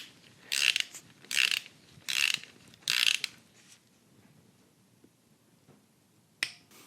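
A ratchet clicks in a home garage while setting lifter preload during an LS engine camshaft swap: four short bursts of rapid clicking close by, then a quiet gap and one last brief burst.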